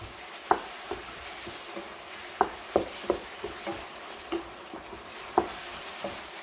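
Minced garlic being stirred into a bolognese sauce in a pan: a steady low sizzle with a string of sharp spoon taps and scrapes against the pan at irregular intervals, close and fairly quiet, no talking.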